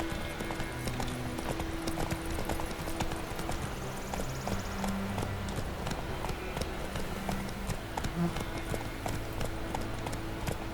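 A horse gallops in The Witcher 3 with fast, continuous hoofbeats and game ambience behind them, moderately loud, without speech.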